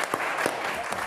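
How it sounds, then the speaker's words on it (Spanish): A short burst of applause, scattered claps from a small audience heard up close, with a voice faintly present. "María José Saldívar, para que la aplaudan."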